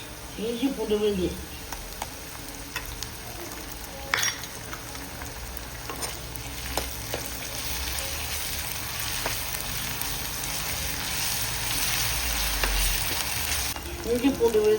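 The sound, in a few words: ginger garlic paste frying in pan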